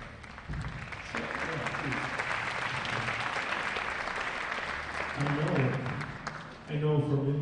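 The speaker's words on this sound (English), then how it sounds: "Yeah, give a round of applause." Audience applause at a high school concert in Stillwater, a steady wash of clapping from a crowd that fills the hall, with a voice speaking over it toward the end.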